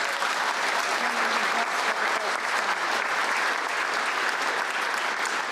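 A crowd at a public announcement of a paper mill's new owner in Chillicothe breaks into steady, even applause, many hands clapping continuously at a constant level for over five seconds with no speech.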